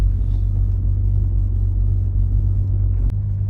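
A 1997 Toyota Kijang LGX with a carburetted automatic gearbox drives along a road. A steady, loud low rumble from the engine and road fills the cabin, with a brief bump near the end and no talk.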